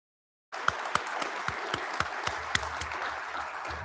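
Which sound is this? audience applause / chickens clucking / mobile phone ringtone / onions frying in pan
audience applause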